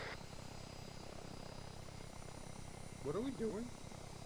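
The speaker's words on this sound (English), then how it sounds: "Alright, Osprey taking off." An Osprey tiltrotor aircraft taking off on a runway landing zone, a steady low droning rotor and engine hum throughout, faint and distant, with a person speaking briefly over it.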